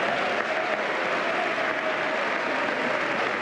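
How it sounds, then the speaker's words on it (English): Crowd noise fills a packed chamber during Trump's speech to Congress, a dense, steady roar of booing and jeering voices that holds at a constant level throughout, with no single speaker standing out. "Wow, do you hear some booing?"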